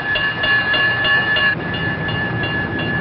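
A train rolls through a small southern town, an even, continuous rumble with tonal metallic ringing that shifts partway through, heard at moderate distance with no voices.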